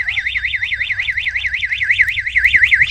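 A security system alarm in a Roblox building sounds loud and close, a rapid warbling electronic siren that rises and falls in a steady cycle throughout, with no talking.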